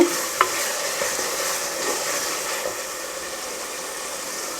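Ginger and garlic sautéing in hot oil for a fish curry, a steady close sizzle and frying hiss with a couple of brief utensil scrapes near the start.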